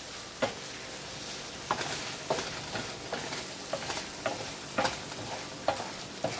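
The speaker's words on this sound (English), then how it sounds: "you're going to just fry this up until it's good and brown" Corned beef hash browning in a frying pan, with a dense continuous sizzle and regular scraping stirs of a spatula roughly every half second to second, close and steady throughout.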